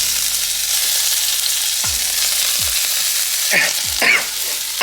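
Fresh chili and garlic fry in a hot pan with a loud, steady sizzle, broken by a few stirring scrapes and knocks near the end.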